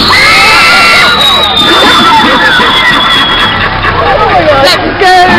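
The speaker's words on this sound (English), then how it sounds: "On the count of three, I suggest you all do a test scream." A hayride crowd at Tulleys Farm's October haunted attraction lets out a loud, sustained group scream as a test, with shrieks and cheers from children and adults lasting several seconds before fading into chatter.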